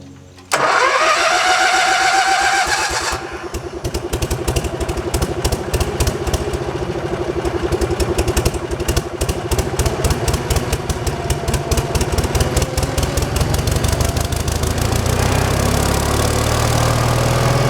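Engine of a Frick sawmill slab cutoff chop saw starts abruptly and settles into a loud, rapid, pulsing chug close by, running steadily and unevenly as if over-fuelled.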